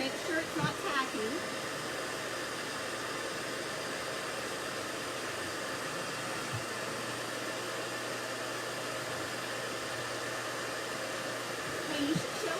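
Continuous hot air from a blow dryer roars close and even while drying painted birdhouse undercoats, a steady hissing whir that barely changes, with a brief voice near the start and end.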